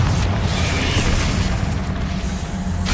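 Confringo fire spell blasting in the video game Hogwarts Legacy, heard as a steady, loud, rumbling boom that fills the whole stretch with dense low-end roar.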